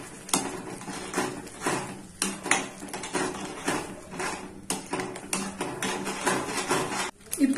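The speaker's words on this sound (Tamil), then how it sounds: "நான் மீடியம் ஃபிளேம்ல வச்சுதான் வதக்கிட்டு இருக்கேன்" Mixed vegetable gravy is sautéed in a pan over a medium flame, with repeated scraping and clinking of a spoon against the pan in short, uneven bursts at close range.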